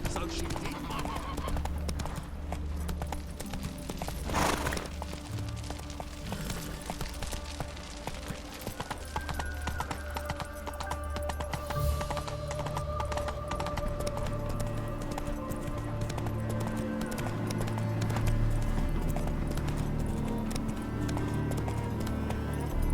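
Horse hooves clip-clop at a steady gallop in The Witcher 3, continuous and fairly close under game dialogue and ambient sound, with a brief whinny early on.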